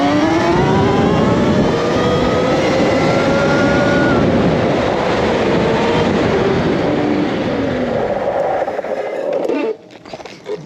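A Sur-Ron electric motorbike fitted with large aftermarket brakes stopping hard, the rear tyre locking up; loud continuous rushing and whining with sweeping tonal pitch slides throughout, cutting off abruptly near the end.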